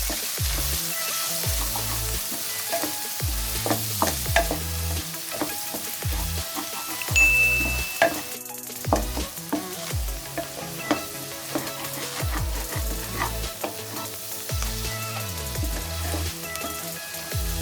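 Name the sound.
mixing grated paneer and ingredients in pan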